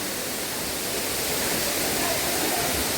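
Mahithapuram waterfall deep in dense forest, a steady broadband rush of falling water that stays loud and unbroken throughout.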